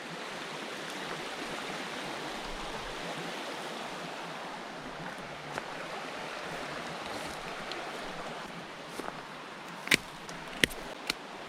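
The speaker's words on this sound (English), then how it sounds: "And the brook is right here." A brook flows steadily beside a wet, overgrown trail in Nova Scotia that was damaged by a hurricane, giving a continuous broad rush of water with a few faint clicks and knocks near the end.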